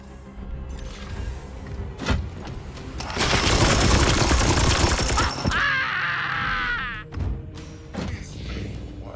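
Gunfire in Chaos Gate - Daemonhunters: a few sharp thuds, then a dense sustained volley lasting about two seconds, followed by a rattling tail and scattered impacts.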